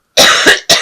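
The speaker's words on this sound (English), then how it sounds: "I'm so sorry about this cough." A woman's lingering cough, two sharp close-up coughs in quick succession followed by a third, loud and dry against a silent background.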